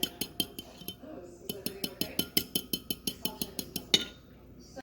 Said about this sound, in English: We're just gonna mix it.